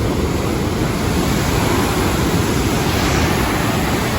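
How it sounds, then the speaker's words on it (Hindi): Fast, heavy river water rushing through Taunsa barrage, a steady, loud, broadband roar that stays constant throughout with no voices over it. "आज पानी बहुत ज्यादा तेज है"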